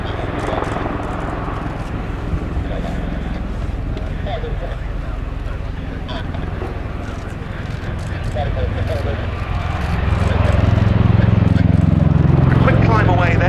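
A USAF CV-22B Osprey tiltrotor flies at the Royal International Air Tattoo 2019 air show, its deep throbbing rotor roar growing louder toward the end, under continuous commentary from someone speaking.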